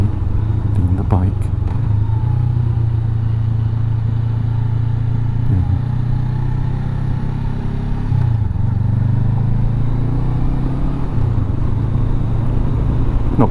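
A Honda CB500X motorcycle rolls slowly downhill through a right-hand hairpin on the Adriatic Highway in Croatia, its engine a steady low drone that dips and recovers in pitch, with wind noise over it.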